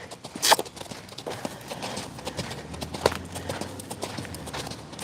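A horse cantering in a hillside round pen on an angle, its hoofbeats sounding as a steady rhythmic clip-clop of footfalls at moderate distance, with a sharp louder knock early on.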